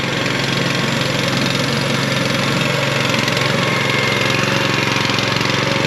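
Hydraulic motor on a budget firewood conveyor runs steadily once fluid reaches it, a loud unbroken mechanical drone with a constant hum and no pauses.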